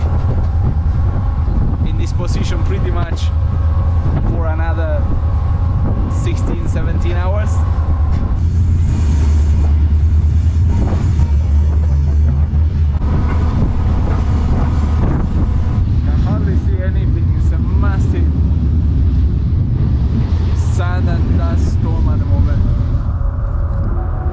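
A long-distance train crossing the Sahara desert gives a continuous heavy low rumble, with wind buffeting the microphone and occasional metallic squeals and rattles throughout.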